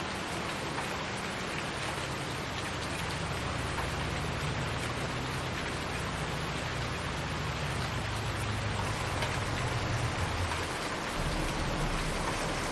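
Steady, dense rain from the video game Farming Simulator 19 hisses continuously across the whole stretch, with a low rumbling machinery drone underneath and no voices.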